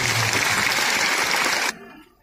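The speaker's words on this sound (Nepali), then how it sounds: "सम्मान स्वरूप ताली बजाइदिनु हुनको निम्ति हार्दिक धन्यवाद" An audience at a Nepali literary and musical evening applauds in honour of a poet and lyricist, a dense burst of clapping that stops abruptly after under two seconds.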